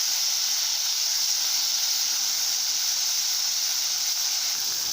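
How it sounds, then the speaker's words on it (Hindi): Vegetables for masala noodles stir-fry in a hot pan with a loud, continuous, even sizzling hiss that runs for the whole stretch without breaks or voices. "अब मैं सारी सामग्रियों को अच्छे से चलाते हुए फ्राई कर लेती हूँ"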